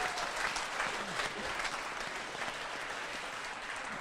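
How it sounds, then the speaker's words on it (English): Audience at a monthly meeting applauds Mr. Bill right after singing him happy birthday, a dense, steady round of clapping with some crowd noise that carries evenly through the whole stretch. "a big round of applause for Mr."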